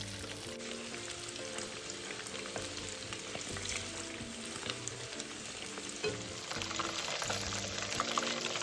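Pork slices deep-frying in hot oil for a fried pork ribs noodle dish, a steady dense sizzle with faint stirring clatter running throughout at a fairly even level, growing slightly louder near the end, no voices.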